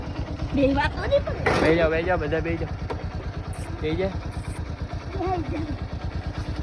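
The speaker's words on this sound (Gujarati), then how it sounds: "બાઇક મસ્ત ચાલુ કરી નાખ્યું છે" A motorcycle engine running after being started, idling with a low, even pulsing beat under loud nearby talk throughout.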